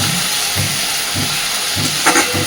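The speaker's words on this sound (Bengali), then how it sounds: "মশলাটা দিয়ে খুব সুন্দর করে কষাতে থাকবো" Spice paste sizzling steadily while being stir-fried in a pan for a Bengali koi fish curry, a constant bright hiss with soft rhythmic stirring scrapes underneath and no talking.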